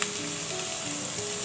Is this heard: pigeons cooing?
no